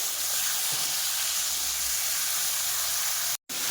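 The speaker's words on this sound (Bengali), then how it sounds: "পটল ভাজতে ফেলে দিয়েছি এদিকে পটলটা ভাজি" Pointed gourd (potol) frying in a pan gives a steady, loud hiss and sizzle, continuous and close, with no one talking.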